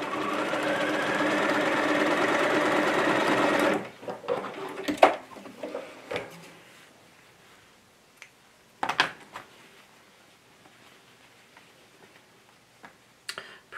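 A sewing machine runs a steady, loud stitching burst while joining a dress's shoulder seams, then stops, followed by scattered clicks and handling knocks of fabric and machine parts.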